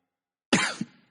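A person coughs at close range after a moment of silence, one harsh rough burst with a short trailing second hack, then another cough starts just as the sound ends.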